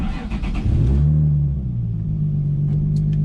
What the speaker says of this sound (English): So we're in first gear, just take off, get up to about 30 miles per hour